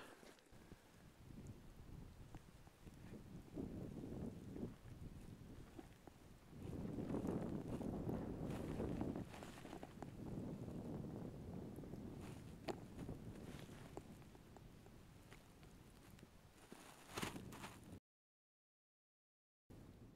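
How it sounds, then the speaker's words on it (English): Wind blows across a mountain ridge on the Appalachian Trail, a faint, continuous rumbling buffet that swells and eases in gusts, ending in a short silence. "taking a minute to get out of the wind"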